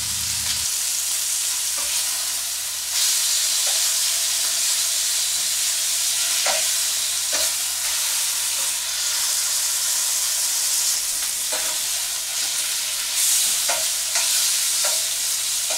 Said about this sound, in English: I'm just going to go ahead and sear these